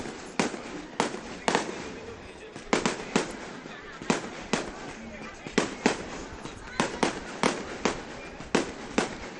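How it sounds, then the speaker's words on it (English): Fireworks burst over the Intracoastal Waterway in North Palm Beach during a holiday boat parade, in a rapid series of sharp bangs and crackles, some close together, with people talking and reacting in the background. "We tell them we want a lot of fireworks in North Palm Beach"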